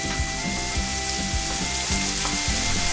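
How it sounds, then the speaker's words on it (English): Onions sizzle and fry in hot oil for Macedonian moussaka, a loud continuous crackle close up, with rhythmic scraping of stirring repeating about every half second. "so when it's get hot, we just add our onions"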